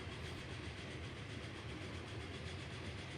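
A passenger train in the game Transport Fever 2 rolls along tracks through a valley, a faint, steady rumble with soft rhythmic clatter throughout and no speech.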